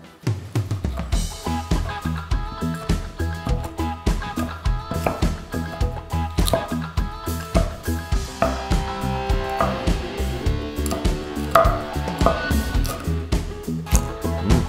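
Steady, rapid knife chops crunch through crispy air-fried pork for sisig on a wooden board, continuous and close, over faint background music.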